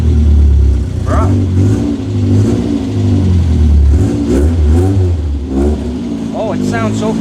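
A drift car's engine, just started after prep work, revs loudly up close in repeated throttle blips over a rough idle, with a voice talking over it at times.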